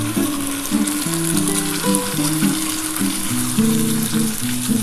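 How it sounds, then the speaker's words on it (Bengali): Steady sizzling and crackling of poppy seeds frying with onions in a pan, continuous and close, with faint clinks and tonal hum underneath. "আমার ভাজা হয়ে গেছে পেঁয়াজটা এবার আমি এই পোস্তটা দিয়ে দিলাম"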